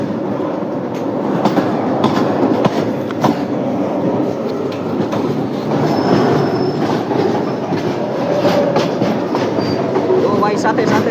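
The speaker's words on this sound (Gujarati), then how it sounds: "તો ભાઈ સાથે સાથે આપણી ગુડ્સ ટ્રેન ચાલી રહી છે." A goods train runs alongside on an Indian Railways line on the Rajkot–Virpur route. It makes a loud, continuous rumble with rhythmic wheel clatter and occasional squeal that holds steady throughout.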